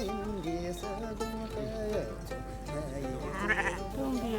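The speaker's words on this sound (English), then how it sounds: "The sheep run happily toward the grassland to their new life." Several sheep released onto grassland on a high plateau in Golok, Qinghai bleat repeatedly near and far, overlapping cries in an uneven chorus.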